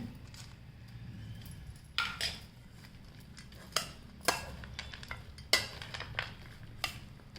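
A spoon clinks and scrapes against a bowl while chaat is mixed with peanuts, a series of sharp, close metallic taps and scrapes in irregular rhythm over quiet background.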